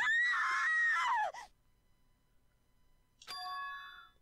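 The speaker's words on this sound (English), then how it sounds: "Scream? That voice just now," A short, high-pitched scream from a character in the Danganronpa 2: Goodbye Despair video game rings out for about a second. It is followed by silence and then a bright chime.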